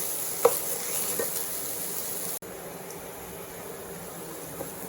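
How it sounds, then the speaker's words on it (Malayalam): Onions and sugar being stirred in a frying pan, giving soft scraping and a faint, steady sizzle close by, with no talking. "ഇതിനെ ഒന്ന് ഇളക്കി കൊടുക്കാം."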